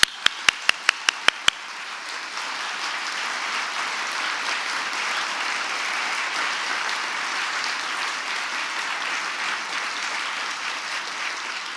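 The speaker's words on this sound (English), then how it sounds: "Let's give them another round of applause." A Hall of Fame luncheon audience honoring Springfield Public Schools graduates breaks into sustained applause, a few sharp claps opening before the room fills with steady, dense clapping that holds for several seconds.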